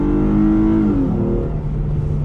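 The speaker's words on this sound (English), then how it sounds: "Back on throttle, and we're off." Hyundai Genesis Coupe accelerating after braking, its engine note rising loud and close with a clear pitch climb, dipping at a gear change, then pulling steadily again.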